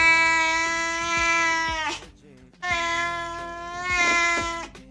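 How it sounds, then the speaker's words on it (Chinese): A cat gives two long, strange, drawn-out meows separated by a short pause. Both calls are loud and close. "猫咪的奇怪叫声 Top 14"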